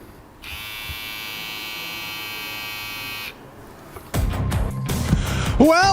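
An electric shaver buzzes steadily for about three seconds as part of a comedy skit about shaving eyebrows, then cuts out before louder rustling and voices follow.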